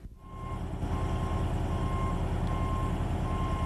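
An M1070 heavy truck tractor backs up slowly to align its fifth wheel with a kingpin, its reversing alarm beeping in a steady, evenly spaced series over a loud, constant diesel engine drone.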